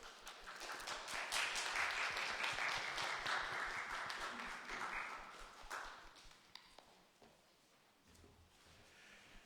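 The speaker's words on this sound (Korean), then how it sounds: "우리 박수로." A church congregation applauds during a Sunday service, warm clapping that swells, then fades away into a few scattered claps.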